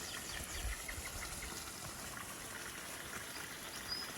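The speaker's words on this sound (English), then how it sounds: "The waterfall is doing okay. Yeah, the water blade, I'm quite pleased with this." Water from a garden waterfall pours steadily over a water blade into a pond, giving a soft, continuous wash and trickle that stays faint and even throughout.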